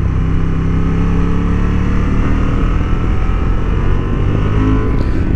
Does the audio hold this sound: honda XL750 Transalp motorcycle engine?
yes